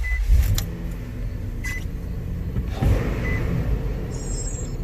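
A 2005 Nissan Armada or Titan engine cranking and catching near 2.8 s, settling into a steady idle, with car noise and a faint whine earlier.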